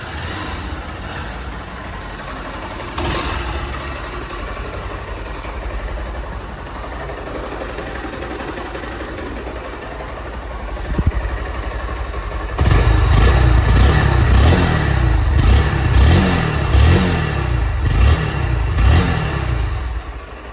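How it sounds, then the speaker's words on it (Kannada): A Honda Unicorn 160 motorcycle with a 160 cc engine idles with a steady, close exhaust burble, then is revved hard in several sharp, loud bursts that rise and fall over the second half. "ಈ ಬೈಕ್ ನ ಎಕ್ಸಾಸ್ಟ್ ನೋಟ್ ನ ನೋಡ್ಕೊಂಡು ಬರೋಣ ಬನ್ನಿ."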